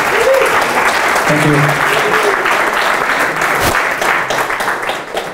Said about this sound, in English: applause for Till out there